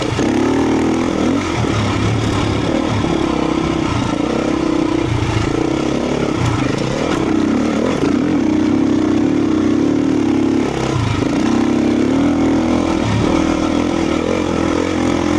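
A dirt bike rides through deep desert sand in New Mexico, its engine droning steadily and loud throughout with rising and falling revs and some clatter, no talk.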